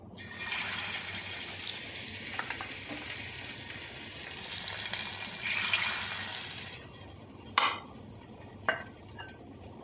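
Marinated paneer pieces sizzle and fry in hot oil in a pan, a steady broadband hiss with a few sharp clinks of utensil against the pan near the end.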